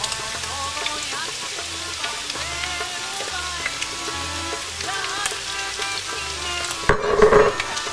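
Flour fries in a pan for a traditional Macedonian kasha flour soup, a steady close crackling sizzle that runs on without a break before a brief louder stirring scrape near the end.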